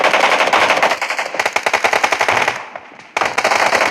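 Rapid bursts of machine gun fire in the mobile shooter PUBG Mobile during a team deathmatch, loud and rhythmic, with a short pause before firing resumes.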